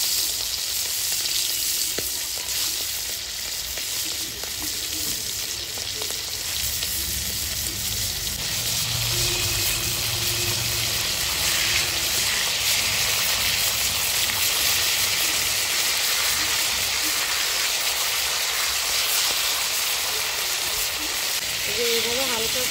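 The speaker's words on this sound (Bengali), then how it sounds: "এইভাবে হালকা করে আমি ভেজে দিলাম। এইভাবে আমি সব মাছগুলো ভেজে নেব।" Pomfret fish frying in a pan of hot oil, a steady, close, bright sizzle that runs unbroken throughout, with light stirring or pan movement now and then.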